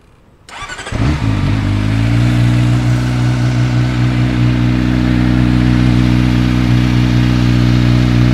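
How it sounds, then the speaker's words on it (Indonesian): A CFMOTO 500 SR Voom motorcycle engine starts up after a brief quiet moment, then settles into a loud, steady, close idle with a deep, even rumble and no voices. "gue lupa tadi belum gue gas nih motor"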